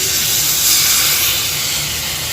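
Mustard paste hits a hot pan for a fish curry, giving a loud, close, continuous steamy sizzle and hiss throughout.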